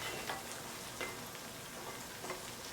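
Khari puri, a savory flat bread made with rice flour, frying slowly in oil until crisp, giving a steady dense sizzle with faint crackles and a few soft pops throughout, no talking.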